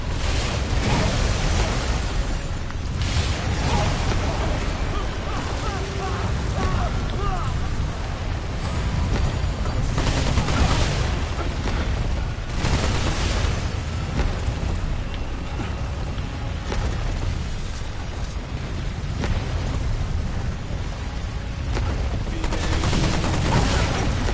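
Heavy gunfire and booming blasts from the video game Remnant 2 roll on loudly and continuously, with a player talking over the combat.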